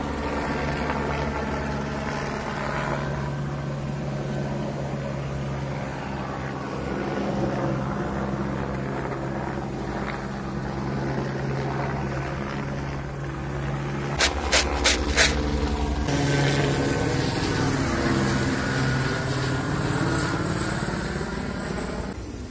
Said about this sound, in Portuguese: o helicóptero da militar como tá por ali